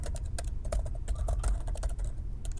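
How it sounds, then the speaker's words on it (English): Typing on a computer keyboard while coding, a steady stream of close, crisp key clicks with irregular rhythm and no voices. "So typing in every time."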